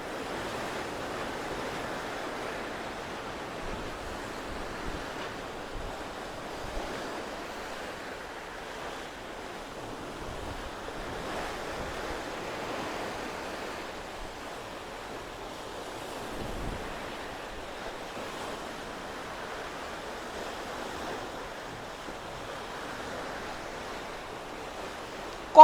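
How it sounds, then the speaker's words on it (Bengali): Sea waves wash in a continuous broad roar of surf, steady and fairly soft, with gentle swells of loudness and some wind rush over the microphone, no voices for the whole long stretch. "আপনারা শুধু এই সমুদ্রের শব্দটা একটু শোনেন"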